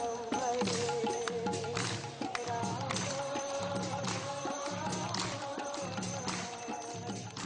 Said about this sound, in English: This is the sound of a group of Hare Krishna chanters.